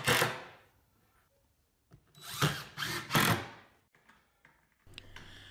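Several short bursts of a power drill driving screws into a wooden splice board on a miter station, each whir rising and stopping, with quiet pauses and small clicks between runs.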